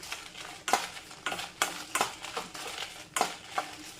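Freshly roasted sambar powder spices being scraped and moved from a pan into a dry vessel, a run of sharp scraping and tapping strokes, close and fairly loud, with short pauses between them.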